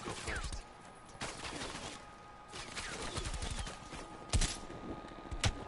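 Gunfire in Call of Duty: Black Ops Cold War, faint and distant, with scattered pops and a couple of sharper nearer cracks near the end over a low background rumble.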